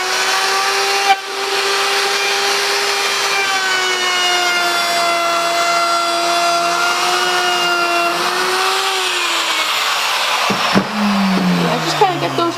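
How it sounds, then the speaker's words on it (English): A wood router rounds over the edges of a wooden piece for a wine glass display, giving a loud, steady high-pitched whine that holds for about ten seconds, then drops and changes as the cut ends. "So this is just normal routing right here."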